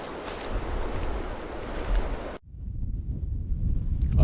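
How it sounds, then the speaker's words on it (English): Heavy wind buffeting a microphone, a steady low roar that cuts out briefly midway and returns with rumbling gusts. "I apologize if it's super windy."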